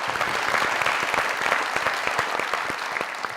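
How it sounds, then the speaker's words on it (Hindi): Steady applause from a crowd, dense overlapping claps continuing throughout at a fairly loud, even level. "पहले तो तालियां"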